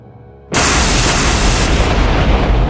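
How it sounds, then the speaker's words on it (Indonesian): An explosion sound effect for a lightning blast in a fantasy duel: a sudden, very loud burst that swells into a dense, roaring rumble and keeps going without a break. "Ledakan petir membentuk gelombang energi ke segala arah."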